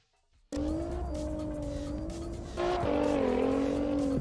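A Nissan GTR drives and drifts in CarX Drift Racing, a steady engine drone with rising pitch and tires squealing, the revs climbing sharply partway through and holding loud to the end.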